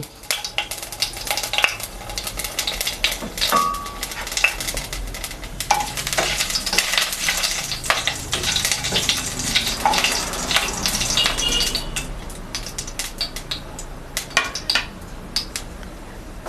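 Nigella seeds and spices sizzling in hot oil in a pan, a steady crackling fry with clinks of a utensil stirring against the pot throughout.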